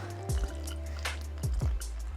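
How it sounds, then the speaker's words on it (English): Hot water poured in a thin stream into chapati dough gives soft drips and wet squishing pulses that come and go in short bursts under a steady low hum. "You're just gonna do a thin stream of hot water"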